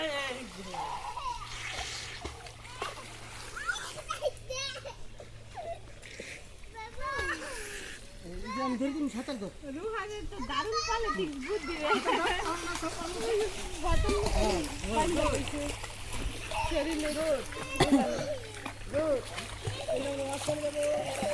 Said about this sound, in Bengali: ওই যে রোহানে সাঁতার কাটতেছে।